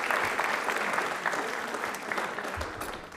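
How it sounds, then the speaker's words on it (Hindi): Studio audience applauding on a Rajasthani television quiz show, a dense steady clapping sustained throughout at moderate loudness. "पर एक बार तालियां प्लीज जोरदार हो जाए इस बात के लिए"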